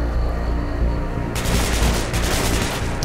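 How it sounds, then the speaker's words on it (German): Loud, continuous automatic gunfire from the shooter game Hatred rattles in rapid bursts, intensifying halfway through, with no speech over it. "ich schieße gegen den Baum"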